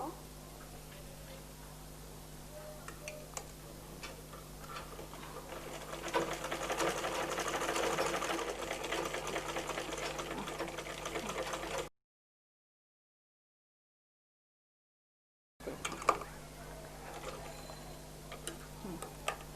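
A sewing machine runs steadily while stitching piping fabric onto the neckline of a baby frock, a close, continuous whirring hum that breaks off into a pause of silence, then starts again briefly.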